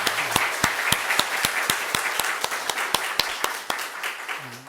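Church congregation in a Korean Full Gospel service claps together in a brisk, evenly spaced rhythm, sharp hand claps close and clear, with no talking over them.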